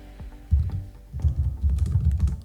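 Close-miked typing on a computer keyboard, with bursts of soft, quick key clicks and short pauses between the runs.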